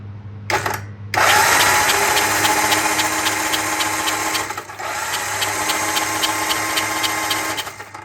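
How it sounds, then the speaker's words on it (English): A vintage British motorcycle engine is spun by its electric starter, a loud, fast rhythmic cranking whir that runs almost without a break after a brief stutter at the start. "I'm going to press the magic button over here to make the motor spin"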